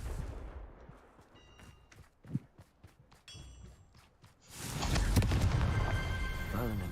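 The Confringo fire-blast spell is cast in the game Hogwarts Legacy. Scattered taps and a sharp thump lead into a sudden, loud, roaring burst that sustains to the end.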